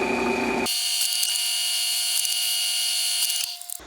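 A drill press spins up and drills holes in Kydex holster plastic, a loud steady high-pitched whine and buzz heard close by for about three seconds before it winds down, with no talk.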